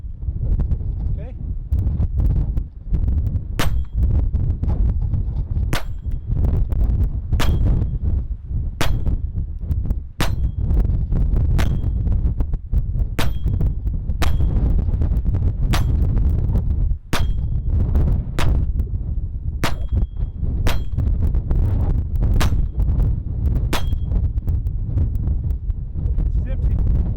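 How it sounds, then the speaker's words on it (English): A Taurus TX22 .22 handgun fires copper-plated rounds on an outdoor range, more than twenty sharp, loud close cracks spaced about a second apart over constant wind rumble, with occasional talk. "like to shoot copper-plated bullets as the first rounds through a handgun"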